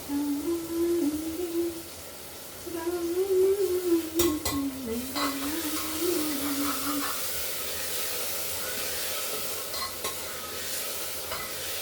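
Masala cooks with soybean chunks in a hot pan, sizzling and hissing as a spoon stirs and scrapes through it, close by. Background singing runs under the first half, and scattered clinks of cookware are heard.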